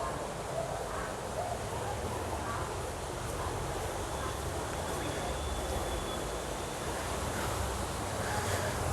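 Rainwater runs through open-air street drains in Dalat, Vietnam, a steady broadband rush like small streams, heard outdoors amid wind and distant ambient noise, continuous and moderately faint throughout.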